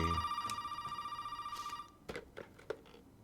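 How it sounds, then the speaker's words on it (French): A telephone rings in the Resident Evil 7 video game, a steady buzzing electronic trill pulsing rapidly for nearly two seconds, followed by a few faint clicks and knocks in an otherwise quiet room. "Le téléphone va sonner."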